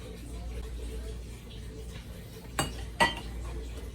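A lid set onto a pot of cooking chicken curry, two quick metallic clinks close together over a low steady background hum.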